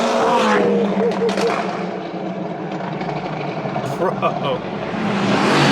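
A supercar engine roars and revs loudly and continuously, with a deep thunder-like rumble that swells toward the end, while people talk and exclaim over it.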